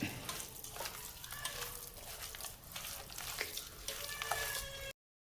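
Mashed pumpkin is stirred into a sizzling onion mixture in a pan, with continuous frying crackle and scraping spoon strokes, close and moderately loud.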